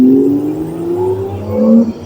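A classic Porsche engine revs loudly on a crowded, closed-off street at a car event in BGC, with rising and falling harmonic sweeps over a busy crowd.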